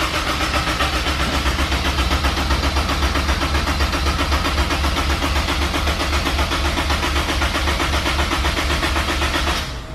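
A turbocharged Honda S2000 engine runs steadily, a loud, even mid-pitched drone with a rapid regular pulse that holds for nearly ten seconds before cutting off abruptly at the end.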